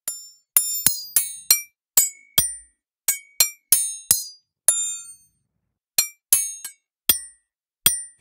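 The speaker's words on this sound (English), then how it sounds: "they all just sound like metal sounds. Good metal sounds" Metal percussion samples from the Ferrum modern trailer percussion library play one after another, sharp bright metallic hits and clinks with brief ringing tails, struck singly or in quick pairs across a quiet background.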